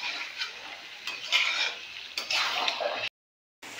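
Meat stirred and fried in a pan, a close, continuous hiss of frying with scraping stirring strokes, broken by a brief silence near the end, with no talking.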